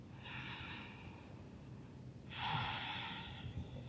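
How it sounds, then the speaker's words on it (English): Two slow, audible ujjayi yoga breaths through a constricted throat, a long soft hiss followed by a pause and a stronger second breath, close and quiet. "Maybe tuning into that ujjayi breathing by making your breath audible."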